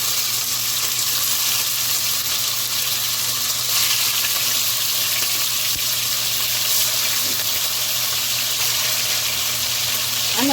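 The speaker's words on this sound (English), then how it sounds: "I'm just going to put in my pork and let it just start to brown" Pork browning in a pot for a brown stew, a steady continuous sizzle and crackle throughout, fairly loud and unbroken, with no talking.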